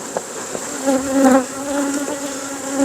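Honeybees swarm around an open beehive frame in late September, a steady, dense buzzing hum close by with individual bees droning past; no speech.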